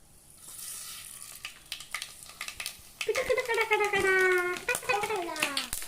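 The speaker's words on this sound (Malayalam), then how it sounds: "വെളിച്ചെണ്ണ ഒഴിച്ചിട്ടുണ്ട്, എണ്ണ ചൂടായിട്ടുണ്ട്. ഇനി നമുക്ക് കുറച്ച് കടുകിടണം." Mustard seeds crackle and sizzle in hot coconut oil in a clay pot, a steady frying hiss with quick pops that grows louder partway through, while a voice talks over it.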